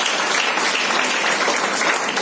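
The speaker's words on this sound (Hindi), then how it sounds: "तो तालियां होनी चाहिए" Steady, dense audience applause at a Hindi talk on health and nutrition, many hands clapping together at an even, loud level with no gaps.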